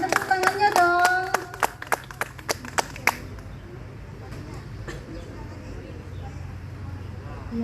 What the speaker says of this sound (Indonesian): Silakan tepuk tangannya dong